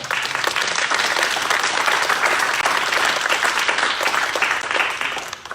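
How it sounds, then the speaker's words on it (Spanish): Sustained applause from a church congregation during a worship service, a dense, steady wash of many hands clapping that fills the room throughout. "¿Cuánto le damos un aplauso al Señor?"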